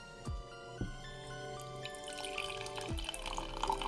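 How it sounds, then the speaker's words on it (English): Coffee poured from a cafetiere into a mug: a few sharp drips and clinks, then a thin trickle that builds into a bubbling stream, quiet and close with no speech. "So I'm gonna pour my cafetiere into the."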